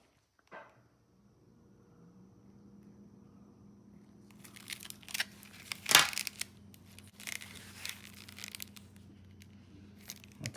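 Paper being cut with scissors for a beginner 3D flower bloom, a faint snip early on followed by a busier stretch of crisp crinkling and snipping bursts, with one sharp cut standing out near the middle, all close and fairly quiet.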